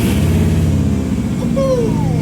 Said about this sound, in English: It sounds like your Subaru.